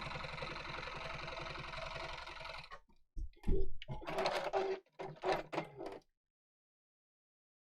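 A sewing machine runs steadily for nearly three seconds while stitching around appliqué shapes, then stops; a few short bursts of handling and motor noise follow before silence.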